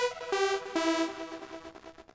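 Built-in instrument sounds on track 3 of a myTRACKS unit play as two sustained, bright tones with sharp attacks, followed by softer, shorter notes that decay, heard alone and fairly quiet.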